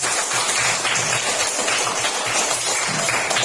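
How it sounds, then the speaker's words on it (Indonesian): Students in a classroom clap their hands together in a dense, steady burst of applause that carries on evenly throughout, close and loud with no talking over it. "tepuk tangan"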